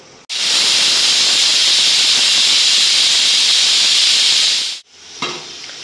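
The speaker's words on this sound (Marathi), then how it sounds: "कुकरच्या 3 शिट्ट्या करायच्या आपल्याला" A pressure cooker on a gas flame releases a loud, steady steam whistle for about four and a half seconds, then cuts off sharply, leaving faint kitchen noise as khichdi cooks inside.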